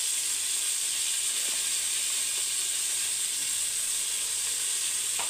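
Onions and medium-size tomatoes sizzle steadily in a hot pan during sautéing, a constant close hiss with no talking.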